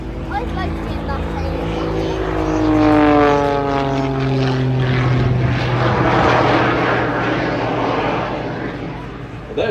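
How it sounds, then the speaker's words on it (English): An aerobatic plane with jet engines roars overhead at an air show, its pitch sliding as it passes, with a loud surge in the middle and a sustained drone after. "There's the sound of those jets."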